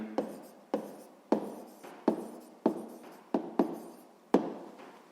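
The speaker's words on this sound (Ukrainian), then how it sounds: "Ну що ж, записуємо відповідь." A pen writes out a maths answer by hand on paper, about eight crisp, evenly spaced strokes, each a sharp tap that tails into a short scratch, close and quiet with no talk.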